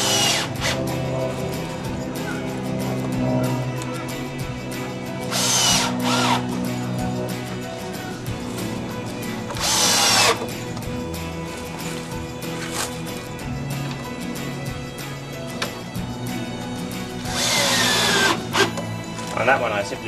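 Cordless drill driving screws into an old deck joist, with several loud bursts of whirring as each screw goes in, separated by quieter handling sounds and a person talking.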